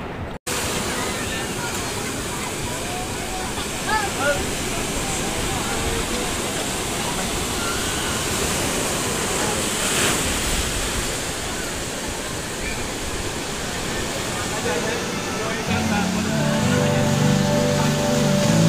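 Sea waves crash on the beach at San Fabian, Pangasinan, in a loud, continuous roar of surf with wind buffeting the microphone.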